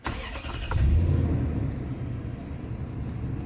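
A 2005 Toyota Tundra SR5 V8 with over 209,000 miles cranks briefly and catches, settling into a loud, steady low idle rumble up close.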